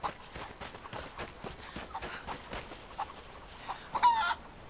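A chicken clucks in Rise of the Tomb Raider, with soft repeated footstep-like taps underneath and a brief louder cluck near the end, all fairly quiet.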